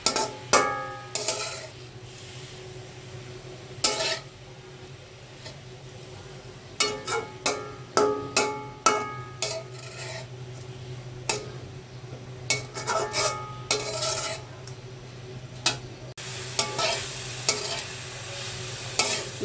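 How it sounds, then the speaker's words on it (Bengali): Grated carrots fry in ghee over low heat, giving a soft steady sizzle broken by frequent scraping strokes of a spoon against the pan, heard close with no talking. "এখন আমি গাজরটা ভেজে নেব ঘির ভিতরে"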